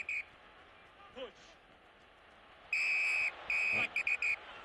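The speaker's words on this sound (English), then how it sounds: "Great use of double whistle or stop play" A referee's whistle sounds at a match: a short toot at the start, then a long blast and a quick series of sharp chirps, with faint voices in the background.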